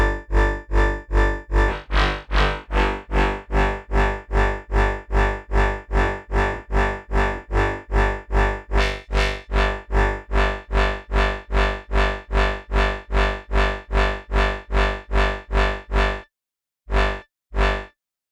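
Bass synth patch built in Phase Plant with phase distortion and reverb, playing a steady run of about thirty evenly pulsed notes with a rich buzzy tone, then a short gap and two final stabs, loud and alone.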